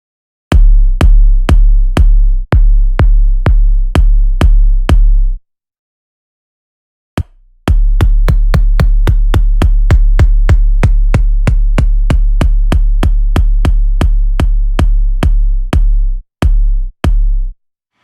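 Layered kick drum sample, a down-tuned body kick stacked with a sub kick, hits in a steady four-on-the-floor pulse, stops for about two seconds, then returns in a faster, denser run of loud, booming beats.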